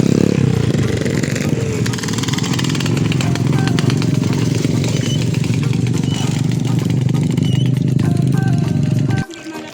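A motorcycle engine idles and revs close by near a riverside spot, a loud continuous rumble with rattling clatter that cuts out suddenly near the end, with people talking over it.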